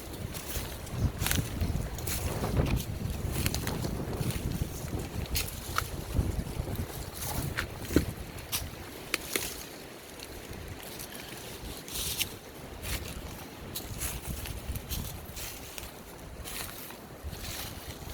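Steady wind rushes and buffets throughout, loud and close, with occasional gusts and knocks against a low, rumbling background.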